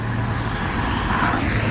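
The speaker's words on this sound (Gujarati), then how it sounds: "તો જોઈ લો આ ગાડી આવી આપણી" A safari vehicle pulls up outdoors, a steady broadband engine rumble with road noise holding at an even moderate level and no talk.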